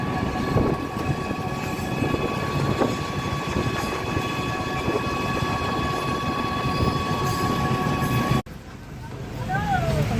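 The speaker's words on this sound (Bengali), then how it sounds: "অনেক বড় ট্রেনটা" A large, long train passes close by on rail, a steady loud rumble with rattling and squealing tones that fills most of the stretch, cutting off abruptly near the end as street noise with faint talk returns.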